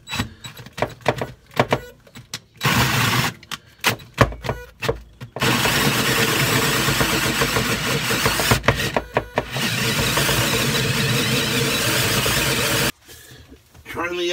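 A power drill bores a 2-inch drain hole with a hole saw, grinding steadily for several seconds between shorter bursts and pauses, loud and close, with brief talk at the start and end.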